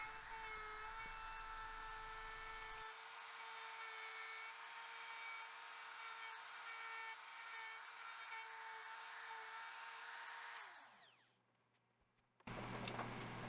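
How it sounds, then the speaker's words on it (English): A router routes out the neck pocket in a guitar body with a steady, loud high whine that shifts pitch partway through, then spins down near the end before a brief return of sound. "I had to make a quick trip back to the body in order to route out the neck pocket"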